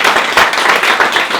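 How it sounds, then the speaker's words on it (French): A small audience claps steadily and fairly close, a brief, dense burst of applause with no talking. "On peut l'applaudir quand même."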